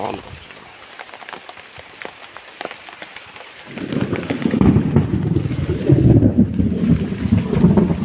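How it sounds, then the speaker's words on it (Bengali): Heavy rain pours down, starting lighter and swelling into a dense, loud roar halfway through, with scattered sharp patters. "আমাদের এইখান থেকে অনেক বৃষ্টি আর কি দেখতেই পারতেছেন"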